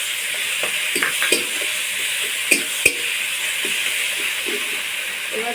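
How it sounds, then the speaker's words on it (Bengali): Tomato and onion frying with ginger-garlic paste for a jackfruit curry, a constant hissing sizzle broken by several sharp stirring clicks and scrapes of the spatula against the pan. "টমেটোটা খুব ভালো করে ভেজে নেব পেঁয়াজের সাথে"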